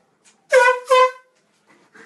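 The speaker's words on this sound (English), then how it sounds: "And don't blow the air horn." Two loud, blaring air horn blasts in quick succession, each about half a second long, close by and sharply tonal, followed by faint background sounds.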